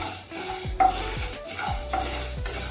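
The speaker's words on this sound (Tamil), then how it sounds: "கருப்பு உளுந்து இதுவும் நல்லா வறுத்துக்கலாங்க." Black urad dal dry-roasts in a pan while a spatula stirs it, making repeated gritty scraping sweeps about every half second over a faint hiss, with a metallic clink, close up and with no voices.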